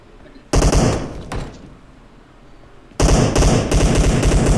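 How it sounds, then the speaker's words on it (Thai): Loud bursts of rapid automatic gunfire in PUBG, a short burst, a pause, then sustained firing, close and harsh. "มีเสียงปืนตรงเนี้ย"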